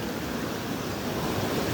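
Floodwater after heavy rain in Mahuva rushes past in a loud, continuous roar, like surf, heard alone with no voices.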